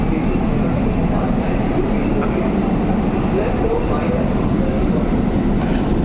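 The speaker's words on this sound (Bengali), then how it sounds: "আমাদের প্ল্যাটফর্ম থেকে ছেড়ে দিল মেট্রোটা" A Kolkata metro train pulls away from the Kavi Sukanta platform, a steady loud rumble and rail noise rolling on for the whole stretch with a faint clatter in it.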